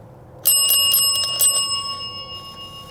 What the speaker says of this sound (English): If you touch it, it will just make a normal bell sound.